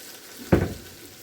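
Cabbage frying in a frying pan gives a short, close sizzling burst that fades quickly into a quiet, steady hiss.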